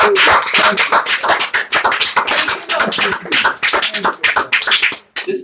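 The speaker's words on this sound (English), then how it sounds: "Give God a thunder clap of praise." A church congregation claps loudly in praise during a sermon, a dense, continuous burst of many hands close by that carries on steadily for several seconds before briefly dipping near the end.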